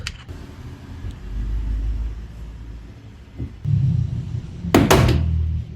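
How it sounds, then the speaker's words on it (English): Low rumbling handling noises give way to a couple of sharp plastic snaps close by as a Kia Cerato door panel clip pops loose under a trim opener, followed by more muffled thumps. "you hear the sound. So the clip is unclipped."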